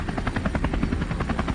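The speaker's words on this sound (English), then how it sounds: "the helicopter sliced through the sky." A helicopter flies overhead at dawn with a steady rhythmic rotor chop, fast regular thumps over a low engine rumble, moderately loud and continuous, no voices.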